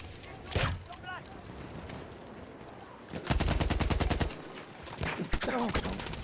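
Rapid bursts of gunfire crack in the video game Battlefield, with a short volley early, then a long fast string of pistol shots and a final burst, with players talking over it.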